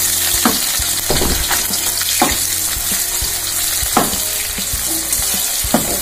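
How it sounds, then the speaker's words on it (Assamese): Thinly sliced onions fry in hot oil for a curry, giving a steady close sizzle broken by periodic scraping stirs, with no voices. "পিঁয়াজখিনি ধুনীয়াকৈ কালাৰটো চেঞ্জ হোৱালৈকে ভাজি দিছোঁ"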